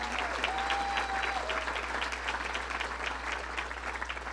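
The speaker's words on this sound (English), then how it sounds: "let's give him another round of applause, our hero" Political speech audience giving a sustained round of applause, a dense even wash of many hands clapping throughout, moderately distant in a large room.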